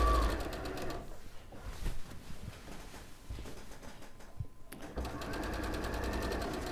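A sewing machine stitches quilt pieces together with a quarter-inch seam, its steady motor whirr running close and continuous with a brief pause in the middle before resuming.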